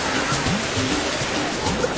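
Waves breaking on a pebbly beach at a Turkish resort, a continuous close wash of surf and sloshing water with a steady, noisy texture and no talk.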